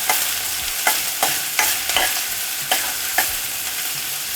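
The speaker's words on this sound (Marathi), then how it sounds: "गॅस एकदम मी लोवर ठेवलेला आहे छान फ्राय करायची" Coarsely crushed garlic fries over low heat in a pan for a vegetable kheema, a steady close sizzle broken by several sharp scrapes of a spoon stirring at regular intervals.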